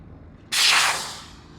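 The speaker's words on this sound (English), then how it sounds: "So we're going to open up the exhaust valve." Air hisses sharply out of a newly opened exhaust valve on a camping platform, bursting on loud and steady, then slowly tapering off as it vents, with no talking over it.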